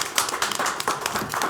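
Brief burst of clapping and applause from the audience at a Salisbury city council meeting, scattered hands patting quickly for under two seconds.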